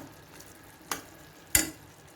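Tomatoes softening in a hot pan for a mint chutney, with a faint low sizzle broken by two brief louder stirring bursts. No one speaks.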